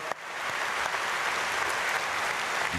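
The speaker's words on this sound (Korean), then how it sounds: "박수하겠습니다" A church congregation at a dawn prayer service claps steadily, a dense patter of many hands that starts abruptly and continues evenly to the end, with no talking.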